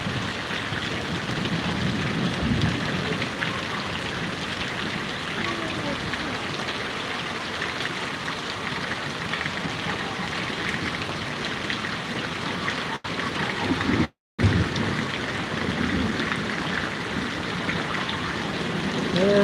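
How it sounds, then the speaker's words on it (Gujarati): Heavy rain falls over Vadgam village in Patdi taluka as a continuous, even wash of water noise, with voices heard at times and a brief dropout near the middle. "જબરજસ્ત વરસાદ હો ભાઈ"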